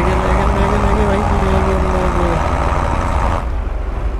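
Tractor engines in Farming Simulator 22 drone steadily as three tractors, including a Mahindra, tow a stuck vehicle out of water, with a constant low rumble and humming tones that cut off abruptly near the end.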